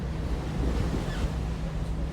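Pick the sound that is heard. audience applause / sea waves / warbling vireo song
sea waves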